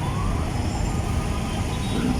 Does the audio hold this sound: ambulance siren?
yes